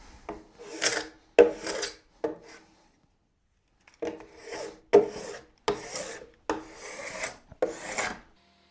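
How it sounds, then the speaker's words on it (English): A card scraper held in a Veritas holder scrapes across wood in a string of short, rasping strokes, loud and close, with a brief pause midway before the strokes resume. "I just have a card scraper inside this Veritas holder"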